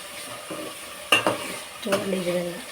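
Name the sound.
stir-frying green chilies, tomatoes and onions in a pan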